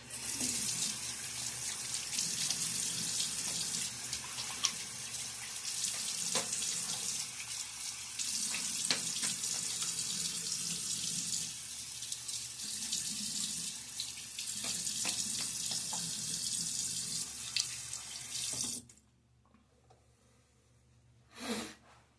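Tap water runs steadily into a sink for rinsing after a shave with a Gillette Nacet blade in a Timeless 68 open-comb safety razor, a continuous close splash that cuts off near the end, leaving quiet.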